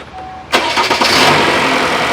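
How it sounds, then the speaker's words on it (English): A car engine on a vehicle being tested for a non-working AC system cranks and catches with a sharp burst, then settles into a steady, close, loud idle. "Now it's time to start the engine."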